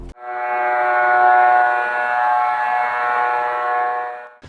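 A drone sound simply faded in and out to fake a flyby: a steady tonal whine with a buzzing hum, swelling up and dying away without any change in pitch.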